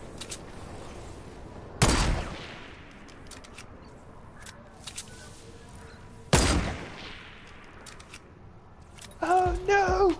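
Two loud, sharp gunshots a few seconds apart ring out in a Fortnite match, fired at a bridge, each with a short echoing tail over faint background game noise, followed by a brief voiced burst at the end.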